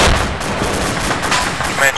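Mortar fire in the video game Arma 2, a string of heavy booming blasts in quick succession over a noisy battlefield backdrop, loud and close, with voice chatter mixed in.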